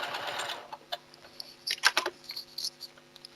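A sewing machine stitches around a seam in short irregular runs of quiet mechanical ticking and clicks, with a brief louder rustle of fabric handling near the start, close and fairly soft.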